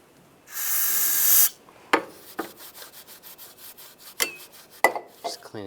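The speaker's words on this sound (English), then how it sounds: "I'll just use a little brake clean and a rag and just wipe this down." Brake cleaner sprayed onto a 1999-2005 Volkswagen Jetta 1.9 TDI engine during valve cover replacement: one loud hiss burst about a second long, then several short rubbing and wiping strokes of a rag.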